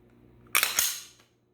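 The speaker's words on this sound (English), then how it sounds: "pull the trigger to that wall, take a breath, steady your shot," A firearm shot fired during trigger practice, a single sharp close crack with a quick echo tail in a quiet setting.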